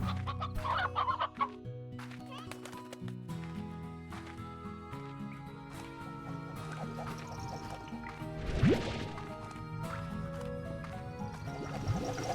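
Chickens cluck in the Slime Rancher video game, repeated clucks mixed with game music, a burst of liquid-like effects midway and bright in-game sounds.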